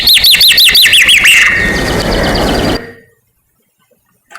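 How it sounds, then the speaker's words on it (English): Recorded song of a songbird reared in isolation: a rapid series of repeated, sweeping whistled syllables, loud and close, blurring into a noisy trill before cutting off into silence. "So we listen to what these isolate birds did"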